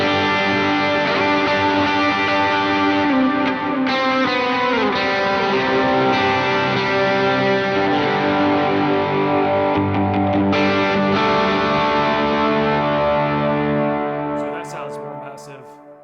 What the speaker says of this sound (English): I changed the reverb preset. So this one has a longer decay time, bigger mix.